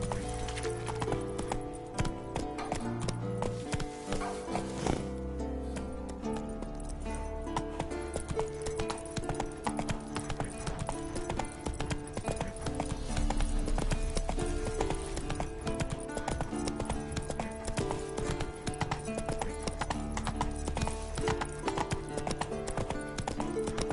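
Horse trotting in a video game, steady clip-clop hoofbeats running throughout over game music, with an occasional whinny and no talk.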